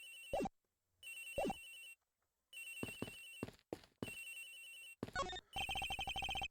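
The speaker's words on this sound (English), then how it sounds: "It sounds like the phone is up in the flight attendant's room." A telephone rings in the video game Ace Attorney Investigations, aboard an airplane: repeated electronic ringing bursts separated by short silences, ending in a rapid, continuous trill, with no voices.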